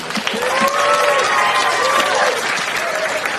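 Audience applause at a stand-up comedy show fills the room with dense clapping and crowd noise for a few seconds, loud and sustained, with some whoops rising through it.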